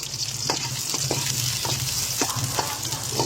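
Onions frying with browned garlic in a pan for ginisang monggo give a continuous close, loud sizzle, with regular scraping strokes of a spoon stirring through it.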